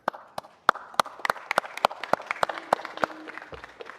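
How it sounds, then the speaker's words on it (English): Audience applause at a city council meeting, a moderate scattering of claps with a few sharp close hand claps standing out, fading out after about three seconds. "Give them a huge round of applause."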